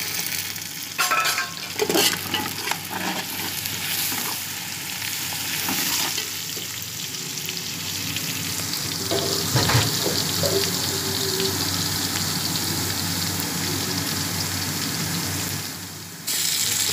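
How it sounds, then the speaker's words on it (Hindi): Chicken pieces salted beforehand go into hot oil with garlic for Sindhi biryani, giving a steady close sizzle and crackle throughout, with occasional clinks and scraping of stirring in the pan and no talking. "ये मुर्ग में साथ डाल रही हूँ चिकन।"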